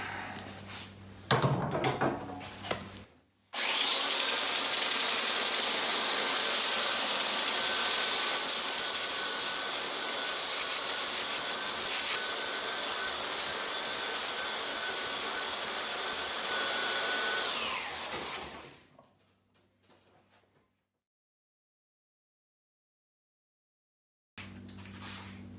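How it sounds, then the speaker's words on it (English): Handheld power planer flattening a reclaimed wood shelf, a loud, steady high-pitched whine and roar running for about fifteen seconds before winding down, framed by brief handling knocks and then silence. "I'm gonna hit this with my hand planer and see if I can't flatten"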